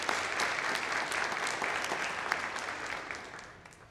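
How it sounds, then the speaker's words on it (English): A burst of applause from an audience at a fire rescue graduation ceremony, steady clapping that gradually fades toward the end. "We'll give them a round of applause."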